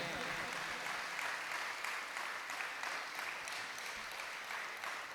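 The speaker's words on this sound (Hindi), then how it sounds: "उसके लिए अच्छे से ताली बजाइए।" An audience claps for a sculptor at a Jain Panch Kalyanak festival, a fairly faint, even wash of applause running steadily through the whole stretch, with no voices over it.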